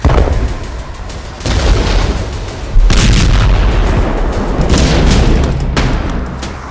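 Missile explosions hit Tehran as a chaotic barrage of loud booms and rumbling blasts, dense and overlapping, swelling in waves with no voices.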